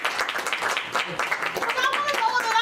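An audience at a live theatre show claps in a brisk, continuous patter, mixed with scattered voices and chatter from the crowd.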